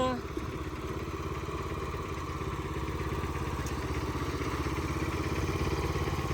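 An old Japanese walk-behind tiller's small engine chugs steadily at a low idle, a continuous rhythmic putter with light mechanical clatter, close by and fairly quiet.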